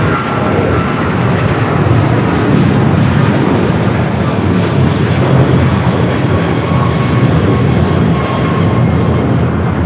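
A heavy American jet airliner at LAX airport rumbles loud and close, a broad, steady roar of engine noise with no voices over it.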